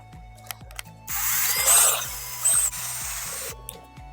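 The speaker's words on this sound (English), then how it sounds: "Using my Miles Craft drill guide" A power drill bores into wood through a Milescraft drill guide, giving a loud steady whir of about two and a half seconds with a faint rhythmic ticking underneath before and after.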